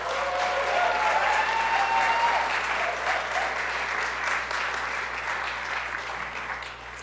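Sustained audience applause fills a city hall State of the City address, a dense even wash of many hands clapping that holds steady and tapers slightly toward the end, with a faint voice trace early on.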